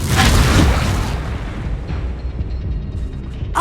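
Confringo fire spell explosion in Hogwarts Legacy, a loud booming blast up front that rolls off into a rumbling, fading tail over a few seconds.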